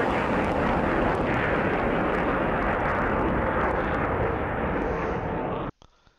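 An F-22 jet in the DCS flight simulator gives a loud, steady engine roar with deep rumble that holds for nearly six seconds, then cuts off abruptly into near silence.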